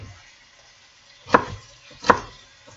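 Two crisp knife chops on a cutting board while preparing ingredients for red beans and rice, spaced under a second apart, each a sharp close thud over a quiet room, with no talking.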